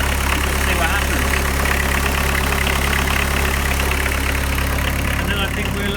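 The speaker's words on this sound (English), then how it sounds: "I'm going to leave the engine running to get the heat up and just see what happens." A VW T25 van engine with an overheating problem idles steadily and loudly, a constant low rumble that holds level throughout with no change in revs.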